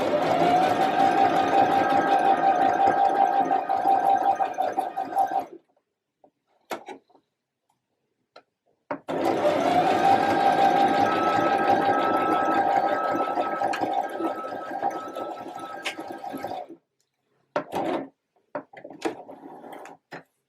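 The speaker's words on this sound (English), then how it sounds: "I'm going to start to slowly sew down this edge and then reverse to secure that stitch." A sewing machine runs a straight stitch seam down a fabric edge in two bursts of steady, buzzing mechanical whir about five and eight seconds long, separated by silence, then a few quiet clicks.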